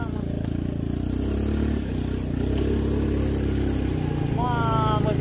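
An ATV engine idles steadily at close range, a constant low rumble with a brief dip near the middle, while a person calls out over it.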